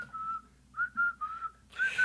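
Someone whistles a short tune up close: a few clear, sustained notes with brief gaps, then a final breathier phrase, with no talking.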